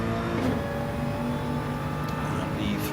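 A GT3 race car in a racing video game at Daytona, its engine droning steadily with harmonic whine as it powers out of a corner, mixed under ongoing commentary.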